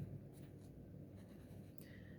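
Writing on a board during an accounting lecture on declining balance depreciation, faint short strokes and taps in a few quick bursts over a quiet room, no speech.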